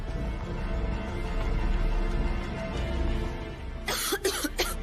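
A few harsh coughs burst out near the end, loud and close, after several seconds of low background rumble.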